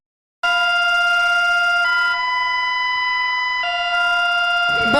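Bulgarian emergency alert system siren: a loud, sustained multi-tone electronic wail with steady stacked harmonics that shifts pitch slightly a few times and runs continuously without speech.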